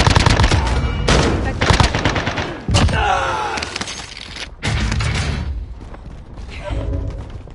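Heavy gunfire in a video game battle, with loud machine-gun bursts and scattered single shots crackling close by in rapid, uneven volleys, with brief lulls between them.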